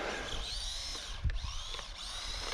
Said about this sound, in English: So you can hear it got some sand maybe inside the wheels.